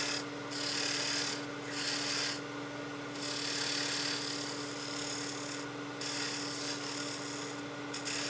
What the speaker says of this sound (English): So now I'm going to go ahead and part the rest of this down.